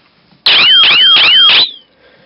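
A laser tripwire security circuit built around an LDR sets off its alarm when the beam is broken: a loud, close electronic warble of four rapid repeating sweeps lasting just over a second, then silence.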